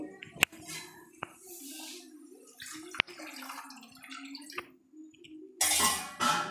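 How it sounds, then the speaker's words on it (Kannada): Water trickles and splashes into a pan of fried spices for cauliflower and pea kurma in short bursts, with a few sharp clinks of metal and a louder gush near the end. "ಈಗ ಸ್ವಲ್ಪ ನೀರು ಸೇರಿಸ್ಕೊಳ್ತೀನಿ"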